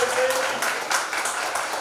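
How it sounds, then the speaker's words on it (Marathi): An audience applauds in welcome at a celebration of someone's eightieth birthday, giving a crowded patter of clapping with faint voices mixed in. "सर्वांनी टाळ्या वाजवून या ठिकाणी स्वागत करायचे."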